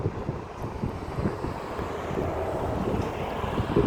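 Steady wind rushing and buffeting across the microphone among trees in a desert, a continuous low roar with gusts that swell slightly toward the end.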